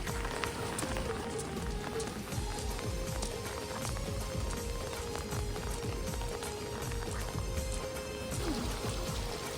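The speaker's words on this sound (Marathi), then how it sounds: "काल जो संध्याकाळी पाऊस लागला आहे अजूनपर्यंत काही शांत झालाच नाही" Steady patter of monsoon rain in a flooded coastal fishing area, with scattered drips and taps, continuous and fairly quiet, no talking.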